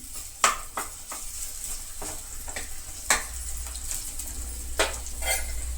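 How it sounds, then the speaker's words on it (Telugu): Ginger garlic paste sizzles as it fries in a pan for cauliflower curry, with steady frying hiss broken by several sharp clinks and scrapes of a spoon stirring against the pan, close and without talk. "ఇందులో కొంచెం అల్లం వెల్లుల్లి పేస్ట్ వేసుకోవాలి. కొద్దిగా కలుపుకోవాలి. ఫ్రై అవ్వాలి కొంచెం."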